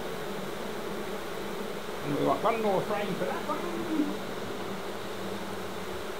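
Honey bees buzz around an open hive during a brood comb swap, a steady droning hum with a louder swell of buzzing near the middle as someone speaks briefly over it.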